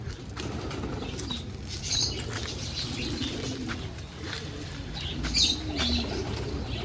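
Pigeons, one of them white, flutter and flap their wings in bursts over a steady background hum, with a few soft coos and chirps mixed in nearby.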